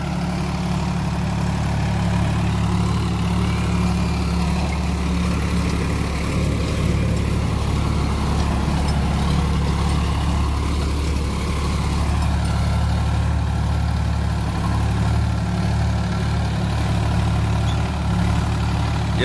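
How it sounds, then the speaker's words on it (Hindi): A Sonalika 35 tractor engine holds steady at 1500 RPM, a deep, even diesel throb with a rumbling low hum that runs continuously at close range, with no speech over it. "मैं अभी ट्रैक्टर 1500 RPM पे"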